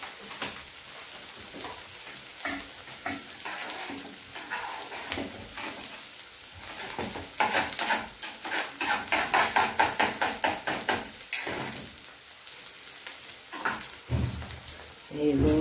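Tomatoes dropped into onions frying in a pan for shahi paneer gravy, a steady sizzle with bursts of crackling and stirring clatter, loudest midway, with someone talking over parts of it.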